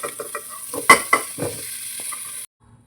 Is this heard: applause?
no